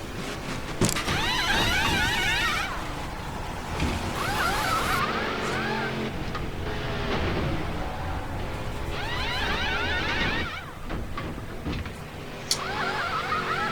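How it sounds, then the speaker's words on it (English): Pit stop during a race in the NASCAR '15 video game, Duck Commander 500: whirring, zipping bursts of pit-crew tools over a steady engine drone, several rapid mechanical runs with brief pauses. "First pit stop of the race."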